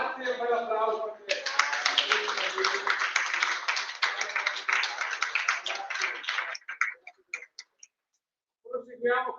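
Many hands clap in a sustained burst of audience applause at an Italian award ceremony's final event, fading into scattered claps before a voice resumes speaking.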